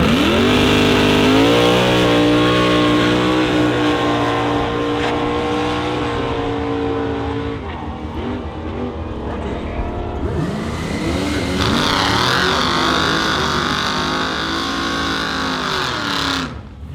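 Drag race cars, a Chevy C10 and a 1968 SS big block Chevelle, at a drag strip: loud rising engine revs, a gear change, then more high-pitched acceleration fading as they race away.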